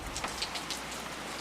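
Spring rain falls steadily in a soft, even hiss, with scattered individual drops tapping nearby, quiet and continuous with no voices.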